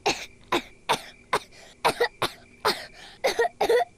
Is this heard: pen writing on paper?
no